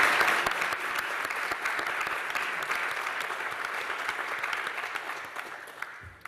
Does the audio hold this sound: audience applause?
yes